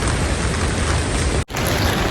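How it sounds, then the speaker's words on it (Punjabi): Steady, loud rain hissing close by on a mountain road toward Hemkund Sahib, broken by a brief dropout near the end before the downpour resumes. "ਜਿਵੇਂ ਜਿਵੇਂ ਜਾ ਰਹੇ ਹਾਂ ਉਵੇਂ ਮੀਂਹ ਜ਼ਿਆਦਾ ਆਈ ਜਾਂਦਾ"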